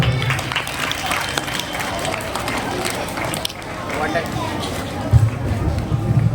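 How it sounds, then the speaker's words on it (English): An audience at an Independence Day celebration applauds singers after a patriotic song, a broad, sustained wash of crowd clapping with some murmuring and a few louder bumps near the end. "Let us put our hands together and give the singers a huge round of applause"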